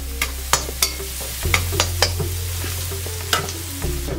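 Ginger, garlic and green chilli fry in a pan with a steady crackling sizzle, broken by several sharp utensil clinks and scrapes over a low background hum.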